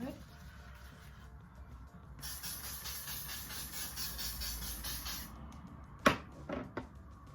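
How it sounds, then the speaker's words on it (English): Hairspray hissing out of an aerosol can onto hair for a get-ready styling routine, a steady close spray of about three seconds, followed by a few short knocks and clatters. "Got to be glued hairspray."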